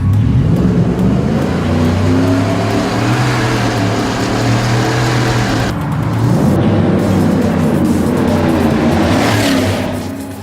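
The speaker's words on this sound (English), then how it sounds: "Dale Adams has also fitted an MBRP side pipe, which makes this thing extremely loud" A supercharged 2018 Ford F-150 with an MBRP side pipe exhaust holds a loud, throaty idle and rumble and then revs up, the engine note rising near the end, close and sustained throughout.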